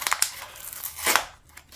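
Strong paper tape peeling off a monstera plant pole, heard as a few short dry rips and crackles, close and fairly quiet, with a louder tearing burst near the end.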